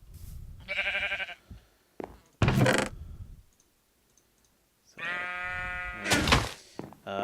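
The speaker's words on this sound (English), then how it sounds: "If we just spawn ourselves a sheep here." Sheep in Minecraft snapshot 12w38a/12w38b bleat twice, each a short wavering call, alongside sharp clicks and thunks from the game, with quiet gaps between, no talk.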